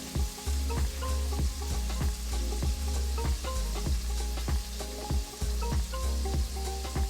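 Bolognese sauce with tomato sauce sizzles loudly and steadily in a pot while being stirred, with a regular rhythm of scraping strokes running throughout.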